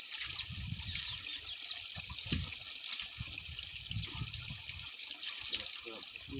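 Water from a village spring in the Jhelum Valley of Azad Kashmir trickles and splashes steadily close by, with low, indistinct voice-like murmurs underneath.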